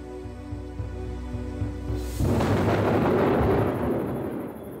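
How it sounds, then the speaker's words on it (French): A deep crack of thunder suddenly bursts in over a low background musical drone and then rolls on as a loud, rumbling roar that slowly fades. "le tonnerre fait frémir mes vieux jours"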